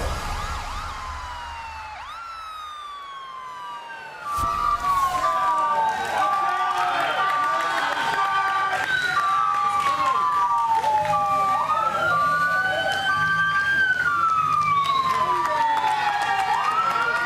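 An ambulance siren wails in rising and falling sweeps inside a wrestling arena at an NXT Halloween Havoc ambulance match, over a loud, steady roar of the crowd, with voices in the mix.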